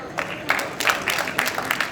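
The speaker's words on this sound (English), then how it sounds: "Please give a round of applause for her" A women's day gathering claps for an honoree, with moderate, somewhat uneven rhythmic clapping from a crowd at medium distance throughout.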